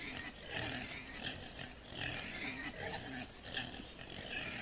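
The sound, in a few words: pigs oinking in a trucking video game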